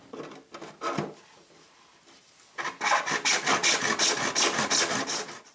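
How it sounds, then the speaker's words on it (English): Handsaw cutting a 45-degree angle through PVC pipe: a few scattered rasping strokes, a pause, then a fast steady run of close, rhythmic back-and-forth sawing strokes, with no talking. "make a 45-degree cut on one end of the PVC pipe."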